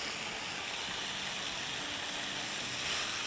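Green onion greens and red bell pepper stir-frying in hot oil over a high flame, a close, steady, even sizzle that hisses throughout with no talking.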